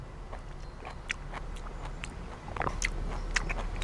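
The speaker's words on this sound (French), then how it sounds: "Et je vais maintenant goûter la peau pour voir si elle se déguste bien." Close, crunchy bites and chewing of Spanish mango skin, a series of irregular moist crackles and clicks growing slightly louder toward the end.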